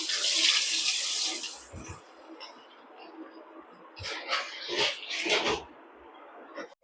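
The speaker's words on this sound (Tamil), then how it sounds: "கடாயில கொஞ்சமா எண்ணெய் ஊற்றி எண்ணெய் காஞ்சதும் நம்ம ரெடி பண்ணி வச்சிருக்க இந்த கட்லெட்டை ஒண்ணா போட்டு பொரிச்சு எடுத்துக்கோங்க." Potato cutlets fry in a little hot oil in a kadai, giving a soft hiss at first and then bursts of close, crackling sizzle.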